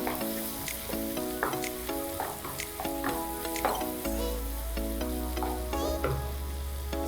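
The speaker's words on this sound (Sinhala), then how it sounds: "බැද ගන්නවා." Onions frying in a pan for spicy chicken fried rice sizzle steadily and close up, with repeated rhythmic scrapes and clinks of a spoon stirring throughout and no voices.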